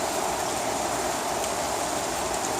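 Heavy rain pours down hard outside near a garden, a dense, unbroken hiss that stays loud and close throughout, with no voices.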